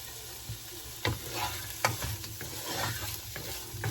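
Food frying in a pan on a stove while being stirred, with a soft steady sizzle and intermittent scraping knocks of the utensil against the pan, close and moderately quiet.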